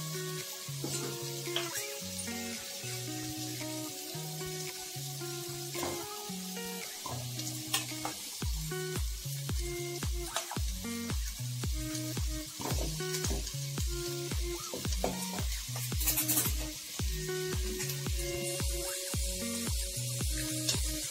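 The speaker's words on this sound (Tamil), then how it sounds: "இப்ப சிக்கன் வந்து ஒரு 1/2 குக் ஆகிற அளவுக்கு இதுலயே லைட்டா ஃப்ரை" Bone-in chicken pieces fry in a pan for a homemade curry, giving a continuous close sizzle with frequent scraping and stirring knocks from a utensil throughout.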